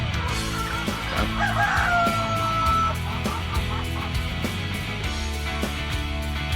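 Purebred laying chickens, among them Australorp, Barred Plymouth Rock and Rhode Island breeds, fill a farm pen with a rooster's crow partway through over steady clucking and cackling from the flock nearby.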